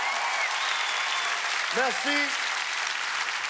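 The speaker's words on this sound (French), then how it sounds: "Vous n'êtes pas obligé d'applaudir, ça va." A large comedy gala audience at ComediHa! 2015 breaks into steady, dense applause that fills the whole stretch, while a man on stage briefly says thanks over it.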